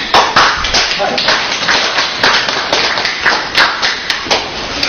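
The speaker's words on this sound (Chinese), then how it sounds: "咱给他鼓掌吧" Studio audience at a lecture on traditional Chinese medicine breaks into dense, sustained applause, a rolling wash of many hands clapping at close range with steady intensity throughout.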